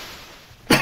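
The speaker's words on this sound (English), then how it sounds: "sorry about this cough" A single sharp cough bursts out near the end after a quiet stretch, close and loud, with no talking around it.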